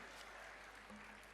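An audience at a school annual day celebration applauds bronze medal winners, a faint, steady patter of clapping heard from a distance for a brief moment.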